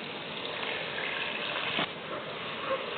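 Ginger and garlic water is poured into a beef karahi, giving a steady, close gushing and splashing of liquid that lasts the whole stretch with no talk over it.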